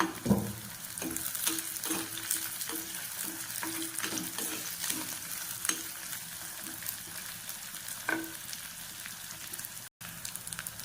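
Sliced onions, crushed garlic and green chillies sizzle steadily in hot oil in a pan, a continuous crackling hiss broken by occasional scrapes and taps of a stirring spoon, with no talking.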